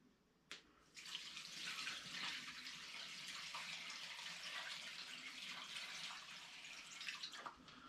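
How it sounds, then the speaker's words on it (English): Rainwater pours from a tap in an off-grid home, a sudden steady gush that starts after a brief knock and runs loud and close, splashing continuously into a basin. "Some good old rainwater."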